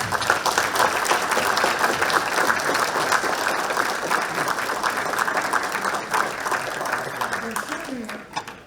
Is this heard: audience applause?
yes